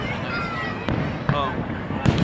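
A New Year's fireworks display over a tower in Sacramento pops in a few sharp, distant bangs a second or so apart, while people nearby chat over the crackle.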